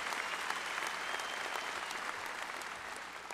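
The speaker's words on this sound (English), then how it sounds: "Let's give those kids a round of applause," A crowd at a high school graduation ceremony applauds, a continuous, fairly soft rush of many clapping hands that holds steady and eases slightly toward the end.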